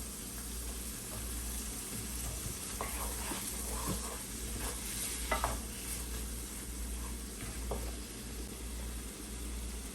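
Garlic paste and seasoning stirred in a hot pot, with soft scraping of a spoon and light sizzling over a steady low hum, as occasional clinks punctuate the cooking.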